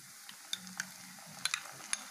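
Onion paste sizzles as it is spooned into hot oil in a pan while cooking a Bengali egg and potato curry, with a low steady hiss and a few sharp crackles and spits.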